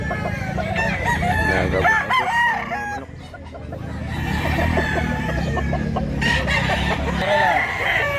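Several roosters crow repeatedly at a busy chicken market in Mantalungon, Barili, Cebu, loud and close, with clucking hens and a murmur of people talking in the background.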